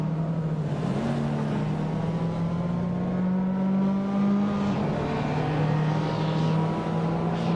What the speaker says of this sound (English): The car is known for its rally heritage and turbocharged power